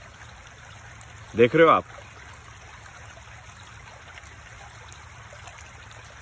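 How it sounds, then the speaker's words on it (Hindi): Gentle flowing water in an outdoor natural setting runs steadily through the whole stretch, with a short spoken question breaking in near the start. "सिर्फ पानी की आवाज़ है, अच्छी प्रकृति है"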